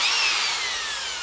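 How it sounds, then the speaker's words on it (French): A power drill whirs steadily and loudly for just over a second, a continuous high motor whine with no voices over it. "comment fonctionne cette satanée perceuse"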